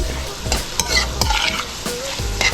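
Vegetables stirred in a hot frying pan, with repeated scraping strokes over a steady sizzle and no talking.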